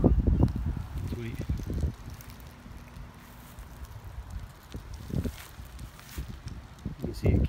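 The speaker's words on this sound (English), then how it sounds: "that wind is so strong right now" Strong outdoor wind gusts and buffets the microphone in rough, uneven rumbles, with rustling and a person talking in between during paper aircraft flight testing.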